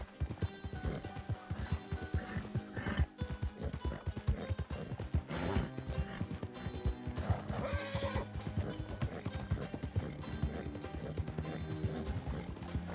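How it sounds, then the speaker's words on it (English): A horse in a western roleplay video game whinnies and neighs over steady clip-clopping hooves, loud and close, with music or game ambience running underneath the whole time. "God damn it, horse."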